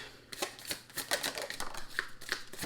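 Tarot cards shuffled and drawn in a reading, a quick run of crisp papery flicks and slaps with irregular rhythm, close and moderately loud, no voices.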